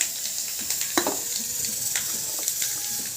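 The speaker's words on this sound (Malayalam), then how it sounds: "കഷ്ണങ്ങൾ വേകാൻ വെച്ച സമയം കൊണ്ട് നമുക്ക് കടുകും വറുക്കാം." Mustard seeds and fenugreek frying in hot oil for a tempering, giving a steady crackling sizzle with a few sharper pops and soft stirring scrapes close by.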